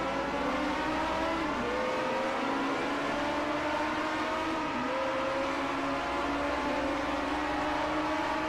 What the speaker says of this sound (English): And I believe I hear a car going by.